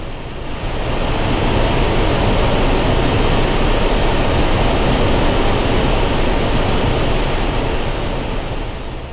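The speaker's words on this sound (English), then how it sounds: "After an 8-hour flight, the ice pod is raised for landing." Steady, loud roar of airplane engines in flight over Antarctica, heading toward a landing on the Ross Ice Shelf, a continuous dense drone filling the whole stretch with no voices.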